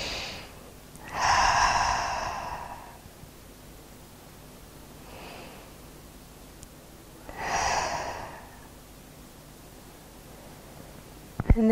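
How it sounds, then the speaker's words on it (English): Two slow, deep breaths during a restorative yin yoga session, each a long audible airy inhale and exhale several seconds apart, close and soft with quiet pauses between. "take 2 deep breaths here"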